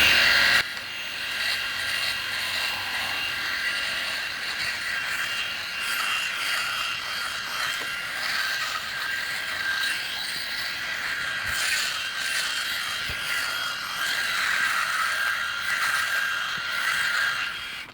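A Remington Virtually Indestructible electric shaver runs steadily throughout, giving a continuous close buzzing whir with no pauses or talking.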